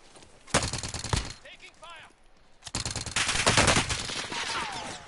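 Rapid automatic gunfire from Call of Duty Warzone on Rebirth Island comes in loud bursts, first a short volley, then a longer sustained stretch of shooting, with brief quieter gaps between.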